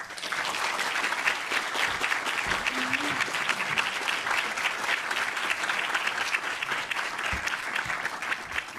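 An audience welcomes Dr. Jacques Vallée with sustained, dense applause, a steady roar of clapping that holds throughout.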